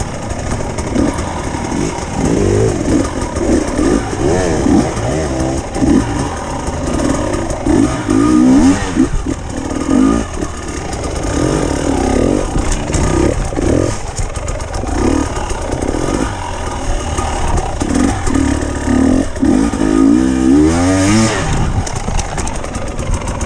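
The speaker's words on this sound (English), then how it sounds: "Even this bike's got a bit of a hollow noise to it" GPX TSE 300 motorcycle engine on the overrun, a hollow, burbling drone with throttle changes and rising and falling revs, heard close and continuous for over twenty seconds with no voices.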